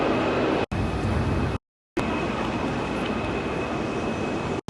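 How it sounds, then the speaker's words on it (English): A passenger train rolls through Portugal's Douro Valley, heard from inside as a loud, steady roar and rumble of wheels and carriage, broken by a couple of brief dropouts, with no voices. "we are on our train ride"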